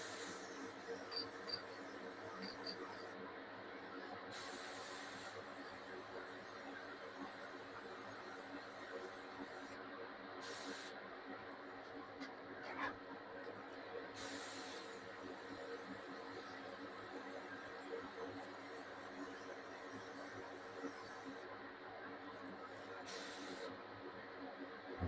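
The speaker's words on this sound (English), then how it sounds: "Now I'm going to kind of mist this area again just a little bit." Spray paint mists in short, faint hissing bursts onto a plastic shepherd blow mold, several separate sprays with quiet pauses between them.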